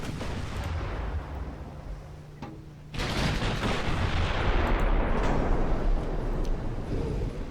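Warship guns fire in the Ultimate Admiral Dreadnoughts naval battle game: a quieter stretch of distant booms, then a heavy blast that opens into a sustained, rolling roar of gunfire.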